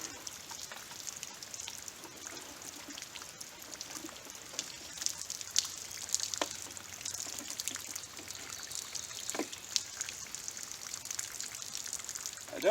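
Water from a damaged shot test jug trickles and drips quietly after 9mm and .357 gunfire testing, a faint, uneven dribble with scattered small splashes and no voices.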